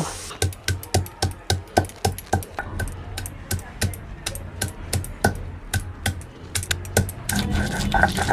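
Peeled ginger, garlic and onion are crushed on a grinding stone for Bengali ghugni, a rapid rhythmic series of sharp knocks and scrapes, close and regular, shifting to a rougher rubbing sound at the end.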